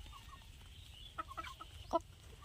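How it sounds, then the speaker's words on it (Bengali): Several chickens eating cut pieces of bottle gourd cluck softly nearby in short, scattered bursts over a quiet background, one sharper cluck standing out near the end. "খাওয়া শুরু করে দিয়েছে মুরগি।"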